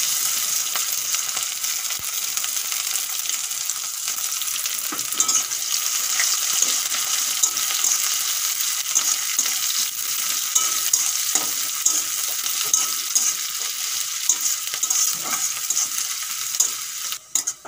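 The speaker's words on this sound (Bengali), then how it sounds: "পেঁয়াজ ভালো করে ভাজা হয়ে গেছে" Chopped onions sizzle in hot oil with cumin seeds and curry leaves, a steady bright frying hiss with frequent scraping stirs and small clinks throughout, close and continuous with no talking.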